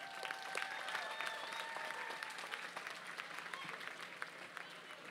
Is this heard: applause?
yes